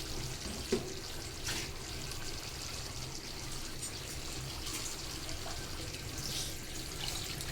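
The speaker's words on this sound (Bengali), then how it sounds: "তরকারি জল দিয়া দেন।" Water poured into a pot of stinging catfish curry, a soft, continuous splashing pour heard at a fairly low level with no talking.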